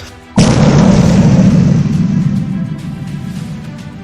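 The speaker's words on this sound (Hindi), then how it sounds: "जिसमें एक बेहद भयंकर विस्फोट हुआ" A sudden, enormous explosion of an asteroid striking Earth bursts in with a deep rumbling roar that slowly fades but lingers loudly to the end.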